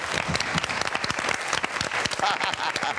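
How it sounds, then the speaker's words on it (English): Studio audience bursts into steady applause, a dense wash of many hands clapping continuously at moderate loudness, with voices mixed in underneath. "Round of applause."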